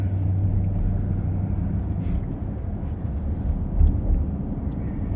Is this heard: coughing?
no